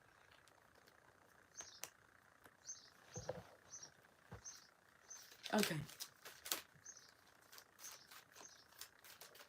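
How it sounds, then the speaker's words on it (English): Small birds chirp outdoors in short, high, repeated notes at a moderate distance, spaced through the moment. A brief voice speaks once, and a few soft knocks and rustles are mixed in. "Hear the birdies chirping?"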